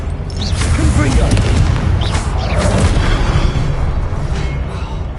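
Blasts from the Confringo spell in a Harry Potter game, a loud, continuous rumbling explosion with bursts of crackling debris, sustained for several seconds at close range.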